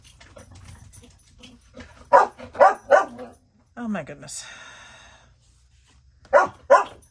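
Dogs bark in sharp close bursts, in a cluster of three and then a pair, with a whimpering yelp in between, and a person talks quietly underneath.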